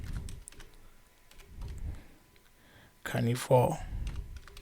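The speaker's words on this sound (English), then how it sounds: "So I'm going to type right there on the group criteria." Computer keyboard typing while entering group criteria into an Access query, soft clicks running under a person's ongoing talk, with a louder burst of keystrokes near the end.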